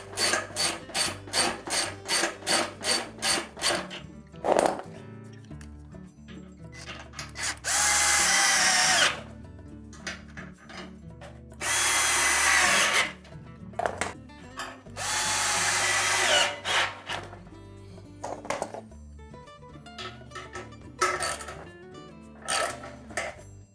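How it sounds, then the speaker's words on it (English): A ratchet or wrench tightens stainless steel bolts into an alloy part on a Whirlpool washer's tub support assembly: a quick run of sharp, even clicks, then several longer loud bursts of harsh grinding with short gaps between them. "using a ratchet or a wrench, we'll tighten them all securely"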